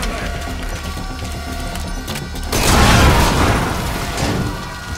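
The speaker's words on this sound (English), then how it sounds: "I shot myself. A fucking explosive barrel." An explosive barrel detonates in Metal Gear Solid V, a loud broadband boom about midway that swells and rolls off over a couple of seconds, rising out of steady game ambience and music.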